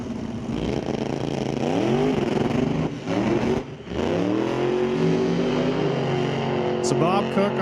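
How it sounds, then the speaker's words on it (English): A 1993 Ford F-150 with a 427 LS engine launching off a drag strip start line, wheels spinning, its engine loud and rising in pitch, with a short dip before revving on strongly; a commentator talks over it. "Bob Cook spinning the wheels off the start line there."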